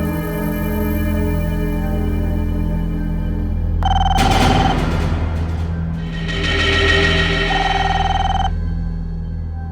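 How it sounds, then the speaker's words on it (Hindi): A telephone rings in a tense indoor drama scene, two bursts of bright electronic ringing over a steady background music bed, fairly loud and close, with no one speaking. "किसका फोन है?"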